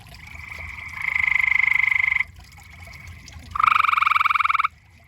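Frogs calling at night in a summer backyard, near and loud: two long bursts of rapid pulsing trills separated by a short pause, with faint background hiss.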